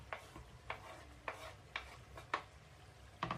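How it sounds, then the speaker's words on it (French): A spoon stirring sliced onions in a pot, giving about eight soft, evenly spaced scraping knocks over a faint sizzle, close and quiet. "On va remuer les oignons pour que ça soit un peu doré."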